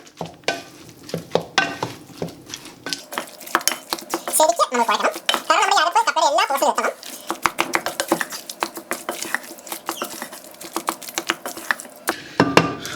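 Boiled tapioca is stirred and mashed in a pot, with dense, uneven knocks and scrapes of a utensil against the pot, close up. A softer, smoother stretch in the middle carries a wet squelching texture.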